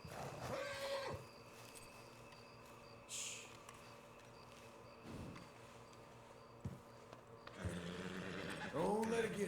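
A horse in the Red Dead Redemption 2 video game whinnies and snorts at the start and again at the end, with a few soft hoof thuds and low game ambience in between, all fairly quiet.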